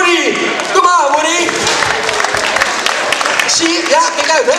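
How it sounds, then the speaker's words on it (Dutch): An audience welcoming a performer with warm applause, steady clapping and crowd noise under loud talking and shouting from people nearby. "ontvang hem met een hartelijk applaus"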